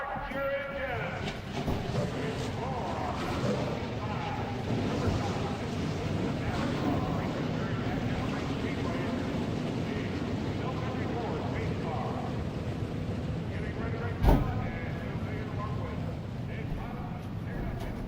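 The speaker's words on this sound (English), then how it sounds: "Ah, the sweet sound of those 41 V8 engines" A field of 41 V8 race car engines in a racing video game rumbles and revs in a dense, continuous roar, steady in level with one brief sharp spike partway through.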